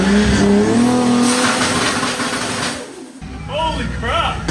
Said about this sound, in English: Never heard of anti-lag before on one of my cars anyway.